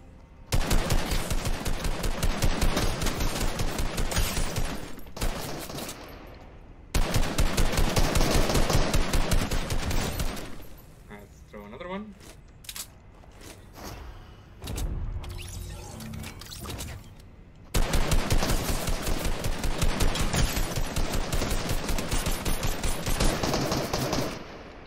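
Fortnite primary weapon firing in long rapid automatic bursts, loud and close, with several sustained strings of shots separated by quieter gaps holding a few isolated shots and reload clatter.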